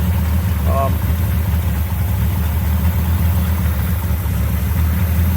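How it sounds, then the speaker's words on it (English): An old high-mileage junkyard engine idles in a Chevrolet Biscayne, a steady close low rumble with a faint brief squeak near the start. "For an old junkyard engine with about 1 million miles on it"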